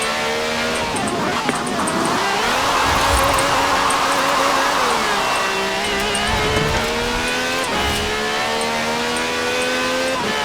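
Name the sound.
V12 car engine with over 750 horsepower in Forza Horizon 4 video game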